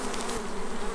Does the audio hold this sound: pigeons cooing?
no